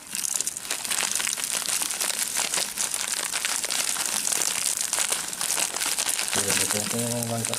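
A plastic packet of AB Mix hydroponic nutrient being emptied, with loud continuous crinkling and rustling of plastic up close, and a person speaking near the end.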